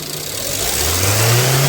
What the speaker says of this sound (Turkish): Çok hafif gaz ver.